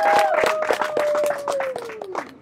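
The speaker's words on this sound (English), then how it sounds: "A round of applause to my beautiful wife" Audience at a couples game show claps for the host's wife, a brisk run of uneven hand claps with a sustained whistle-like tone gliding downward over the applause.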